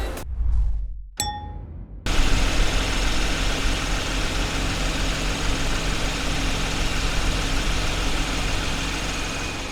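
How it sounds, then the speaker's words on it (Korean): A 2021 Genesis G90 engine idles steadily with a smooth, quiet hum, heard with the hood open, after a short clunk and ringing metallic ding at the start. "엔진 소리도 굉장히 정숙하고요"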